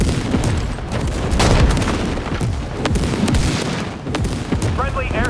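A frag grenade goes off with a heavy boom in WW3 game combat, surrounded by constant gunfire and rumbling battle noise, with voices faintly mixed in.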